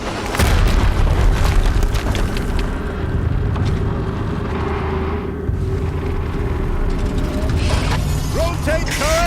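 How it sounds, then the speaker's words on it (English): Heavy turret rotation machinery in the action game Horizon Zero Dawn, a loud grinding mechanical rumble with ratcheting clicks over a booming, explosive backdrop, ending in higher metallic creaks. "Rotate turret."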